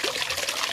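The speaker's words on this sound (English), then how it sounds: "now you just get to hear the sound of the water coming" Pumped water from a homestead supply line starting to flow, a brief trickling, splashing gush heard close and moderately loud, with no voices.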